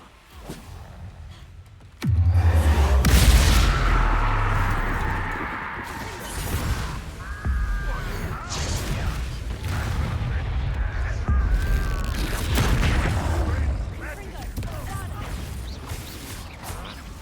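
Confringo and Bombarda spells exploding in Hogwarts Legacy: a sudden heavy blast followed by sustained crashing, whooshing combat noise, with voices talking over it.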